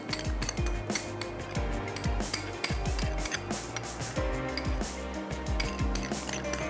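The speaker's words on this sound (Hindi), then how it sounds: "तमाम चीज़ों को अच्छा सा मिक्स कर लेंगे" A spoon mixing paneer yakhni pulao with heavy cream in a metal pot, a busy run of repeated clinks and scrapes against the pot in quick uneven rhythm, close and fairly loud.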